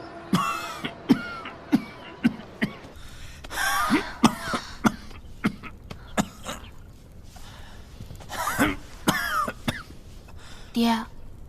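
An elderly father in a period drama coughs in a series of harsh, rasping bursts with some throat clearing, loud and close, spread irregularly across the stretch with short pauses between fits.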